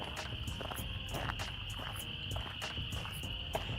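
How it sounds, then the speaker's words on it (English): Frogs call in a wet area of a park in Chattanooga, a continuous high, buzzing chorus that rises and falls rhythmically at a moderate distance, faint and steady with no one talking. "that's probably where all the frogs you're hearing right now"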